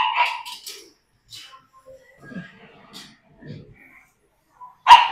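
A small dog in Vietnam barks and whimpers nearby in short, scattered yelps and whines, ending with a sharp loud bark, while people talk in the background.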